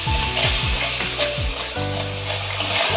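Spices with cumin powder sautéing in a pan for a Bengali yogurt tilapia dish, a loud steady sizzle with repeated scraping strokes of a spatula and low thumps, with no voices.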